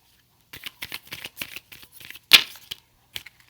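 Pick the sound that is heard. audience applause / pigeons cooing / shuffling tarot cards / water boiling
shuffling tarot cards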